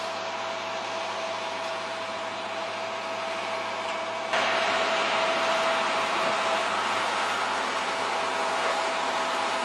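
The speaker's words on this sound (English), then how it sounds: "That's the grain dryer." A farm grain dryer runs with a continuous, fairly loud mechanical roar and a steady tonal hum, like a large fan or blower. Partway through, the roar steps up to a slightly louder, brighter level and then holds steady.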